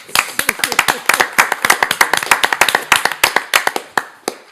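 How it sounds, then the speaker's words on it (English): People at a school governing board meeting give a short round of hand clapping, a dense run of close, sharp claps lasting a few seconds with no talk over it. "I want to applaud him for the work."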